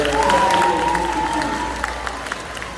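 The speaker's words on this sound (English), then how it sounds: "give a round of applause for our 7th grade players" An audience at a middle school girls' athletics awards ceremony claps for seventh-grade players, a dense burst of applause with a few cheers that tapers off over a few seconds.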